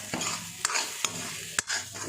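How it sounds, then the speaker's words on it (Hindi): Spices being stirred into bhatt (black soybeans) in a pan: a low sizzle broken by three or four sharp spoon scrapes against the pan, close up. "सभी मसालों को हम भट के साथ ही अच्छे से मिक्स कर लेंगे।"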